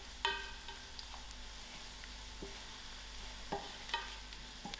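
Turmeric stirred into hot frying oil in a pan, a quiet background sizzle broken by a few distinct metallic spoon scrapes and taps against the pan.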